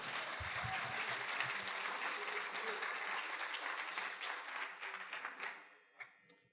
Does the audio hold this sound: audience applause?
yes